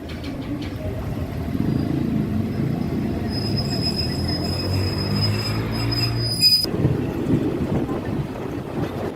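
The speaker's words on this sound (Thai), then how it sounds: "ขณะนี้ขบวนรถไฟธรรมดาที่ 283 กำลังจะถึงที่หยุดรถสวนนงนุชครับ" A Thai ordinary passenger train arriving at a halt rumbles along and its wheels squeal in a long, high screech, then the squeal cuts off as the rolling noise continues.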